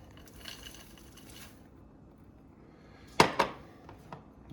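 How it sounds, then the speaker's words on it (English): Canned corn drops into a pot of Brunswick stew with a short wet clatter and slosh, a couple of quick close impacts following a quiet stretch of soft kitchen noise. "Now we're going to dump in the corn"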